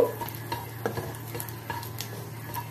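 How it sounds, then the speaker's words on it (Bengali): Dried chilies sizzle in hot oil close by, with soft stirring scrapes and a few light taps against the pan. "এবার এখানে আমি প্রথমে শুকনো লঙ্কা ছাড়ছি। শুকনো লঙ্কাটাকে একটু ভেজে নেব"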